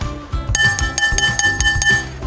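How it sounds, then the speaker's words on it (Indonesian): A metal spoon taps a bowl in a series of bright, ringing clinks, roughly a dozen strikes in an uneven rhythm, close and clear with a lingering tone after each hit. "apakah kalian bisa mendengar suara dari mangkok yang Bu Ratna pukul?"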